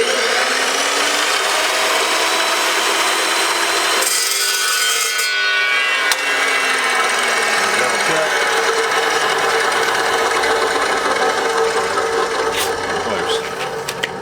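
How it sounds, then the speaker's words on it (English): An Evolution cold cut saw slices through metal stock, a steady loud whining grind that runs nearly the whole time with a brief dip partway through, close to the mic. "if you ever used one of these Evolution cold cut saws, they are the bomb"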